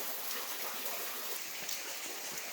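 Steady, dense patter of water dripping and splashing from the rock overhang on a path leading behind a tall waterfall in wet Meghalaya, India, a continuous close hiss with no talk.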